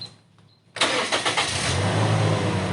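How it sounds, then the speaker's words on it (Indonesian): A 2015 Toyota Kijang Innova 2.0 petrol with the 1TR-FE engine cranks briefly after near-silence, then catches and settles into a steady, loud idle close by, with no talking over it. "itu khas suara Innova bensin, mesin 1 TRF yang terkenal dengan ketangguhan dan kekuatannya"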